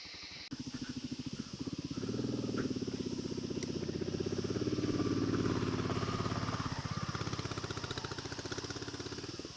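A motorcycle engine labours uphill on a rough mountain track near Chakrata, a steady close-miked throb that swells as the throttle opens, with wind hiss over the microphone.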